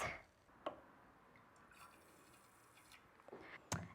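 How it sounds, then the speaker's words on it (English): Water poured over potted anthurium seedlings, soft intermittent drips and splashes at close range, quiet overall with a few brief louder plops near the start and end. "And now I'm just going to water these bad boys."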